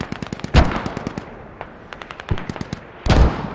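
Mortar fire in a video game, loud deep thumps landing close alongside rapid bursts of gunfire, dense and continuous without speech.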